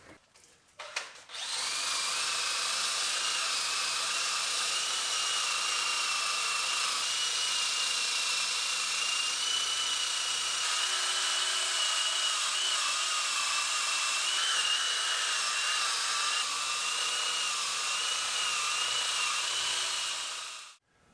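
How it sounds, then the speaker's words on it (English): A power wire brush wheel grinds rust off a car brake caliper in one continuous, loud, high-pitched whir that spins up, holds steady for about twenty seconds, then stops abruptly. "I'm grinding away on this with the wire brush"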